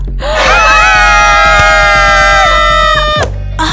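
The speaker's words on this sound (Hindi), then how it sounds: "लड़की इस तरह से क्यों चिल्ला रही हो?" A girl screams loudly and steadily for about three seconds in a school assembly hall, a long high sustained shriek that cuts off abruptly, followed by a low hum.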